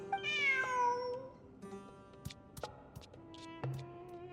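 A cat character meows in the video game Genshin Impact, a series of rising, tonal mews up front followed by softer meows amid light clicking ticks and taps.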